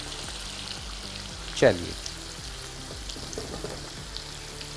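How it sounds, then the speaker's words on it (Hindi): Okra frying in hot oil in a pan gives a steady, close sizzle throughout, with one brief louder clatter near the middle and a short spoken word over it. "भिंडी हमने फ्राई करने के लिए रख दी है"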